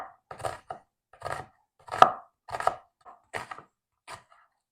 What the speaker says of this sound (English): I'm also going to slice this onion up. This does not need to be chopped fine.